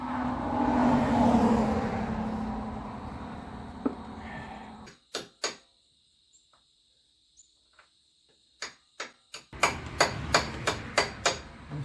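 A ball peen hammer taps on CF Moto motorcycle crankcase parts: after a stretch of broad rustling noise, a series of sharp, close metallic strikes rings out, with single taps first and then a quicker burst of blows.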